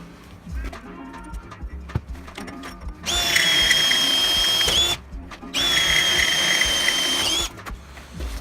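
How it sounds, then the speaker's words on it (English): A power drill tapping threaded holes in metal with tapping fluid for a Honda ATC 70 fender hinge whines loudly in two sustained bursts of about two seconds each, close by, with shop clatter between. "I'm going to go ahead and put a bit of tapping fluid on this and finish off these holes"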